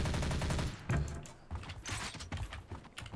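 Automatic weapon with heavy recoil in a video game prototype, firing rapid bursts of gunshots in uneven clusters with short gaps, loud and close, no voices over it.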